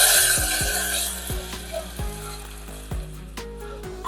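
Tempering is poured into a pot of Kerala pumpkin and bean erissery and stirred, giving a loud sizzle that fades into softer crackling with a few scraping stirs. Tonal background sounds play underneath.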